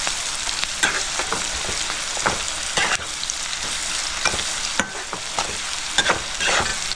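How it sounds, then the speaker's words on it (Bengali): Onions fry in hot oil in a pan while being lightly browned for a pangas fish curry, a constant sizzle broken by repeated scraping stirs of a spatula, close and fairly loud, with no speech. "পেঁয়াজটা আমি হালকা লাল করে ভেজে নেব।"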